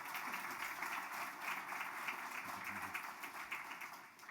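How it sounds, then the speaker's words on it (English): A conference audience gives a steady round of applause, dense and even clapping that fills the hall without letup. "give yourselves all a big hand of applause"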